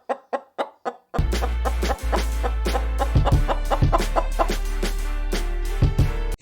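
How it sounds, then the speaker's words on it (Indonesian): A chicken clucks close up, a few short clucks first, then a loud steady background hum joins under continued clucking. "Ini pula ayam."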